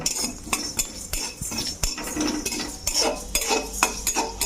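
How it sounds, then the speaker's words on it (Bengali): Whole cumin, coriander and a dried red chilli get stirred in a pan, with a metal spoon scraping and clinking against the pan in irregular strokes and a faint sizzle underneath. "একটু নেড়ে নেব।"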